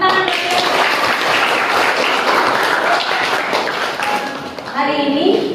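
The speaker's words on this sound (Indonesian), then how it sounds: "Oke, tepuk tangan." A classroom of students claps together, a dense burst of applause that fades near the end as voices and chatter rise over it.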